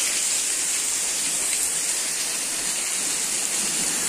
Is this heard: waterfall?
yes